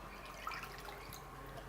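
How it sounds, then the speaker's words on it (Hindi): Water pours steadily into a kadai pan in a home kitchen for Rajasthani gatte, a soft continuous trickle with faint splashing, close and alone. "इनमें आप 2 कप पानी डाल देवा।"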